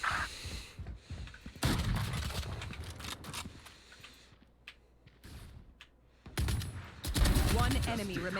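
Bursts of gunfire from a weapon in the video game Valorant, with rapid shots clustered in several loud volleys and short pauses between them, heard over the game's background sounds and a voice talking.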